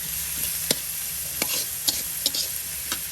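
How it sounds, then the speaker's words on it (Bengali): Onion and garlic fry in a pan, giving a bright continuous sizzle broken by a few sharp clinks and scrapes of stirring, close by, with no voices. "পেঁয়াজ রসুন কত সুন্দরভাবে বাজি বাজি করছে ভাবি"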